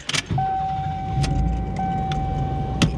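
Car slowly reversing out of a space after a home tire job, with a low steady rumble, a faint jangle of keys and a long steady tone like a reverse chime running underneath, plus a couple of sharp clicks.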